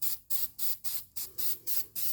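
A spray can coats the outer surfaces of brake parts on a 2018 Hyundai Elantra in eight quick, even hissing bursts, close and crisp, with no talking.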